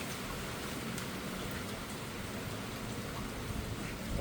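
Steady rain falls in an even, hissing wash with no letup, moderately close and quiet, with no one speaking.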